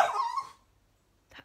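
A dog gives a burst of whimpering, yelping vocalisation lasting about half a second, followed by near silence and then a brief, fainter yelp at the end; no one speaks.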